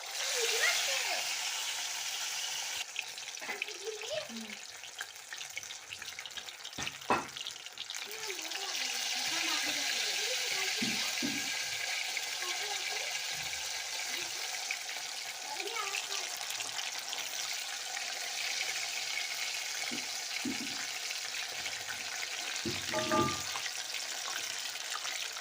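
Batter-coated chicken 65 pieces frying in oil, a continuous close sizzle and hiss under a voice talking intermittently, with occasional clinks of a utensil.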